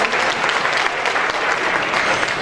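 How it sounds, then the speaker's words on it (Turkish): A concert crowd applauds a health workers' choir, with steady, dense clapping filling the whole moment at close, even loudness. "Siz kendinizi alkışlar mısınız lütfen? Biz sizi alkışlıyoruz."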